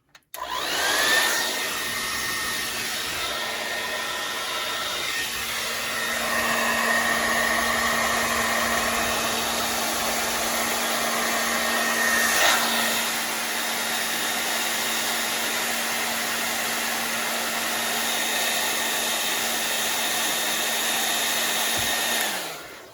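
A blow dryer drying alcohol ink starts up and runs continuously with a steady high whirring drone, close and loud, shifting slightly in pitch before switching off at the end.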